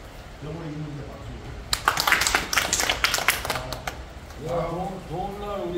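A burst of clapping from a small gathering at a stone-collectors' club ceremony, about two seconds of brisk, uneven hand claps that rise and fade, framed by a voice speaking before and after.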